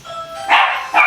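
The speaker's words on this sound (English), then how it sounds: "that was the dog" A dog gives two quick, close, loud barks about half a second apart, heard alone without talk over them.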